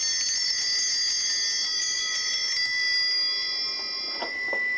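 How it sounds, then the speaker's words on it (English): Bells rung at the elevation of the chalice during a reenacted 1881 wedding Mass in Ellis County, a sustained bright metallic ringing that hangs steadily through the whole stretch at moderate loudness, with a few faint knocks near the end. "The priest then takes the chalice and elevates it also while the bells are rung."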